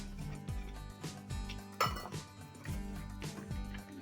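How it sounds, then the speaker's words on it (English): Wet ingredients for gluten-free gingerbread cookies being mixed in a bowl, quiet repeated clinks and scrapes of a utensil against the dish in an uneven rhythm, close and faint. "So we're mixing our wet ingredients together."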